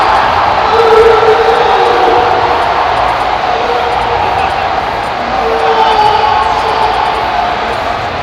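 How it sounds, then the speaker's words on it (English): A crowd at a Super Smash Flash 2 tournament roars and cheers steadily throughout, a dense wash of many voices at a distance with no break. "There goes the crowd."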